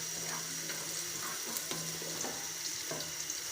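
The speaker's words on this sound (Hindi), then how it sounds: "प्याज हमारा फ्राई होना शुरू हो गया है, तो अब हम इसमें ज़ीरा, 2-3 लौंग, एक दालचीनी का पीस डाल दें" Onions fry in hot oil with cumin seeds, two or three cloves and a piece of cinnamon, giving a steady, even sizzle with occasional soft stirring clicks and no voices.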